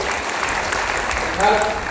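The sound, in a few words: applause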